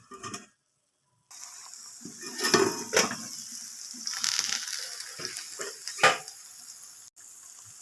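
Brinjal slices dry-fry without oil in a covered pan, giving a soft, uneven crackle broken by a few sharp clinks of utensils against the pan. A brief silence comes near the start.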